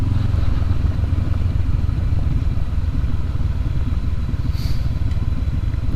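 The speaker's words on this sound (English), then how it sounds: "And just let the motor braking do its thing" A 2019 Honda CB500X adventure motorcycle engine-braking on a downhill stretch, its engine a loud, steady, close rumble with a rough low-end drone and faint clatter throughout, no voices.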